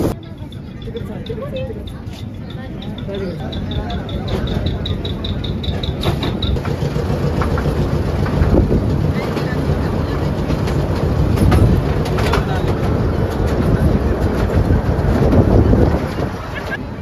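Steady rumbling of an airport shuttle train ride from inside a car, with rail noise and clatter throughout and a brief beeping tone early on.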